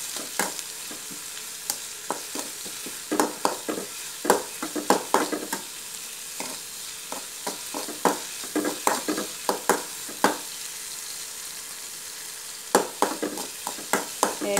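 A spoon stirs a drumstick-leaf stir-fry in a frying pan, making scattered scraping clicks in uneven clusters over a steady low sizzle, with no voices.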